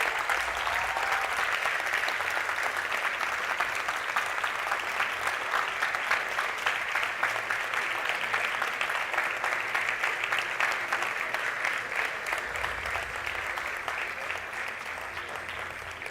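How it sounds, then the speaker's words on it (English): Sustained applause from an audience at an international film festival award ceremony, steady dense clapping that fills the room for the whole stretch, fading slightly at the end. "And the audience, can you please give them a warm round of applause?"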